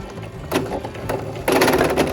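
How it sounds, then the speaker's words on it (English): Short bursts of rapid mechanical stitching come from a sewing machine sewing a fabric face mask, close and loud, starting and stopping in quick spurts with brief pauses between. "Your sewing machine should be able to go over that"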